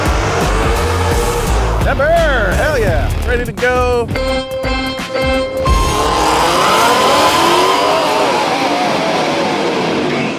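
Drag racing cars with upgraded intake and exhaust launching and accelerating, loud engine roar rising and falling with rapid revving sweeps and tire noise; people talk excitedly over the engines.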